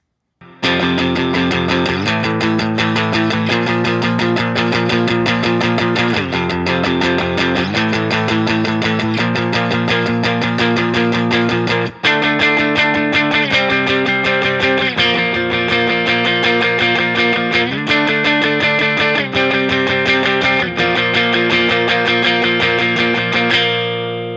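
Distorted electric guitar plays the chorus of a song, strummed chords ringing loud and continuous, with the rhythm shifting every few seconds and one brief break midway.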